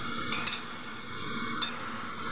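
Ground coriander and cumin being stirred in a hot pan for a katla fish dopiaza curry, a quiet steady sizzle with two brief scraping strokes of the spoon.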